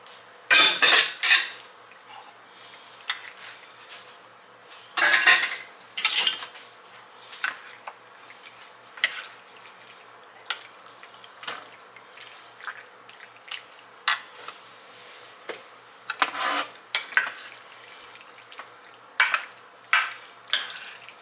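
Pasta being stirred into baked feta in a baking dish, with irregular scraping and clinking bursts of a utensil against the dish, close up and alone with no talk.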